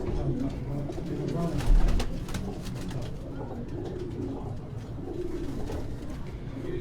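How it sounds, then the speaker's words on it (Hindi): Flying (parwazi) pigeons coo on a rooftop, a close, steady run of soft repeated coos with someone talking over them. "ये सारी परवाजी कबूतर है अपने इंशाल्लाह"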